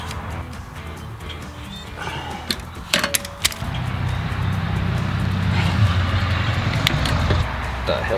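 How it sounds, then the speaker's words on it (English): A vehicle drives past on a nearby road, its rumble swelling into a steady, fairly loud roar that lingers to the end, preceded by a few sharp metallic clicks and clatters close by. "What the hell just drove down the road?"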